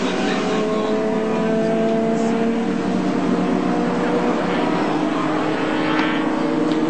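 Touring race cars at the Surfers Paradise circuit roar continuously in a sustained, loud engine drone that slowly shifts in pitch, likely heard from trackside.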